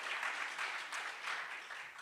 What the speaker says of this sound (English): Can we give them a round of applause for all of their work?